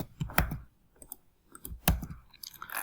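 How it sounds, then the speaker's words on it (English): A computer keyboard is tapped in two short clusters of crisp clicks while a line of code is typed, close and fairly quiet with no speech. "Let's just type here like h2 homepage."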